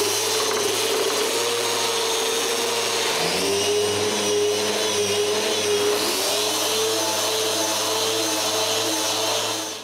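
An orbital sander finishes a glued wooden workpiece with a steady, close, whirring motor drone. The pitch shifts slightly partway through as the pressure changes, and no voices are present.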